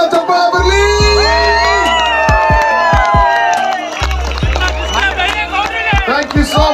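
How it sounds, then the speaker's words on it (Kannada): A large crowd at a live event in Bangalore cheers, whoops and shouts loudly and continuously, with applause and excited children's voices mixed into the dense, close din. "ಶ್ರೀಕೃಷ್ಣ ಬೈರೇಗೌಡ ಅವರಿಗೆ ಜೋರಾದ ಚಪ್ಪಾಳೆ ಬರಲಿ"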